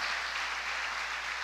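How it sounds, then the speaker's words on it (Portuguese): Applause from a church congregation at worship: a brief burst of even, steady clapping from a crowd. "Você pode aplaudir o Senhor."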